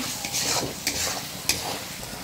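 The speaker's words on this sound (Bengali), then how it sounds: "মশলা কষানো হয়ে গেছে, তেল উপরে আসছে, মশলাটা ভালো করে কষাই নিচ্ছি।" Spice masala with turmeric and coriander sautéed and stirred in hot oil, a steady sizzle broken by sharp scraping strokes of the spoon against the pan, close and alone.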